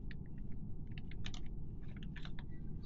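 Typing on a computer keyboard produces light, quick key clicks in uneven bursts, quiet and close, set over a steady low background hum.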